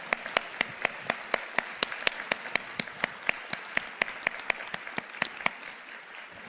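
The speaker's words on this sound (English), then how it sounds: "big round of applause for all our presenters." Sparse applause for presenters at a naturopathic medicine conference keynote: a few individual hands clapping in a steady, evenly spaced rhythm, fairly quiet and distinct, with no crowd roar behind it.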